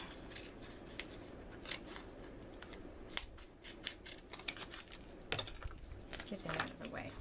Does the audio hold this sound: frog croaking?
no